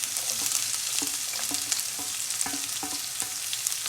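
Chopped onion, a medium to large one, sizzling and frying steadily in a pan, with a continuous close crackle and occasional stirring clinks of a utensil against the pan.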